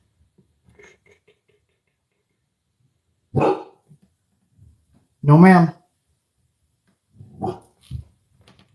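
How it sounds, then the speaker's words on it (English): A dog barks indoors in a few loud, separate bursts with short gaps between them, while someone installs lights and a person speaks briefly. "The dog wants to be annoying."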